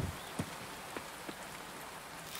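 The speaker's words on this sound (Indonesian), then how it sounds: "Hujan ya hari ini." Rain falling in the video game Coral Island, a soft steady patter of drops with a few slightly louder splashes scattered through, alone without talk.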